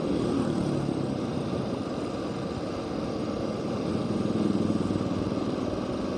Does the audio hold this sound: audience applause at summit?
no